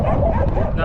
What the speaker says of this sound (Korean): 이번엔 새끼 댕댕이들이네